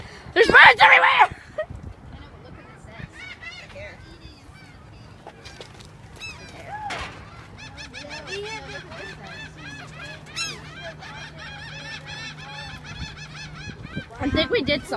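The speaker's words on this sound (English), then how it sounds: "There's birds everywhere!" A flock of seagulls squawks and calls in rapid, overlapping bursts, loud honking cries at the start and end, with several people talking and exclaiming among the birds.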